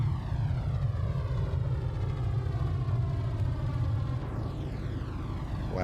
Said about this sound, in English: It's landing.